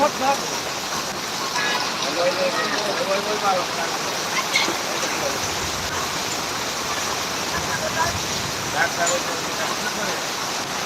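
Heavy rain falls at Ganabhaban in Dhaka as a dense, even roar of downpour that fills the whole stretch, with faint voices underneath.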